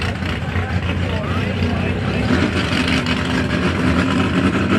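A drag racing car fires up and idles at Toronto Motorsports Park, a steady loud rumbling engine drone that holds without a break.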